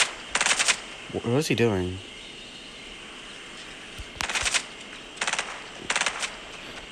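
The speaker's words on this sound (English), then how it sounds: "What was he shooting at? He wasn't shooting at me." Burst rifle gunfire in the Fortnite video game sounds as several short, quick volleys spread across the clip, and a player speaks briefly between them.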